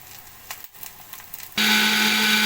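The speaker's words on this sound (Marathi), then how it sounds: "आपण हे जे आपलं सुकं वाटण आपण जे भाजून घेतलेलं आहे ते आपण मिक्सरला लावून घेऊयात" A kitchen mixer grinder starts up and whirs loudly and steadily as it grinds a roasted dry spice paste for kaleji masala. Quieter clatter and handling noises come before the motor kicks in.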